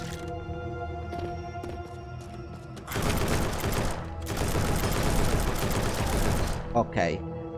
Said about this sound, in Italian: spari a raffica, ma fa veramente poco danno.